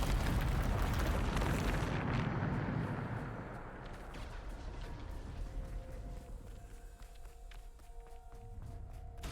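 Spell blasts from the Depulso force-push charm in the video game Hogwarts Legacy: a loud, booming burst that opens the clip and rumbles off over a few seconds, with fainter magical hums and whooshes trailing behind.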